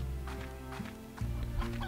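Chickens clucking in the video game Slime Rancher, several short low clucks in an uneven run, moderately loud and close with a steady background hum.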